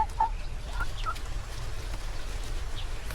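A few soft, scattered chicken clucks come and go over a low outdoor background hum, fairly faint and distant.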